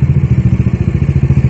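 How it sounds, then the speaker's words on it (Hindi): A warmed-up motorcycle idles on a Mumbai street with a fast, even, thumping putter, close and steady throughout. "मेरा बाइक गर्म हो रहा है, रेडी है।"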